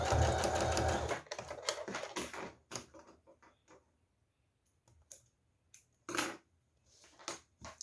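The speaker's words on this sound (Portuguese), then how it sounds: "eu vou costurar aqui a minha etiqueta" A sewing machine stitches a label onto a fanny pack in a loud, whirring burst lasting about a second, followed by scattered soft clicks and handling noises.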